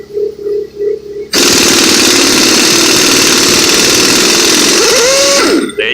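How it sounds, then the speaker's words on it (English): A half-inch impact wrench removes a heated part during the teardown of a 2004 Chevrolet Silverado 2500 with the 6.0 engine. After a quieter moment, it bursts into a loud, sustained rattling hammer close by that runs for several seconds. "Got a 1/2 inch impact."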